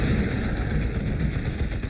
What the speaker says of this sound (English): There is a plasma cannon, it will do its job.